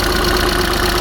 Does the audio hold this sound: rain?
no